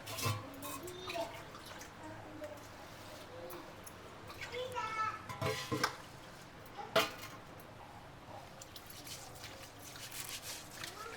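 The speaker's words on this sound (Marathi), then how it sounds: "अजून एक पाण्याने धुवून घेते तांदूळ." Rice being rinsed with water in a home kitchen, with soft sloshing and trickling close by under children's chatter and someone speaking.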